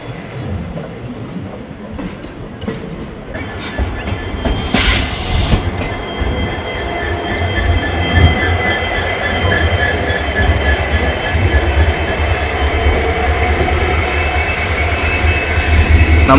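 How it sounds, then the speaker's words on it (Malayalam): A diesel train rolls into Jinijara junction station, heard from inside a sleeper-class coach: a steady heavy rumble with wheel clatter, a brief high squeal early on, and a loudening roar as it pulls in. "ട്രെയിൻ ജിനിജര ജംഗ്ഷൻ റെയിൽവേ സ്റ്റേഷനിലേക്ക് എത്തിക്കൊണ്ടിരിക്കുകയാണ്"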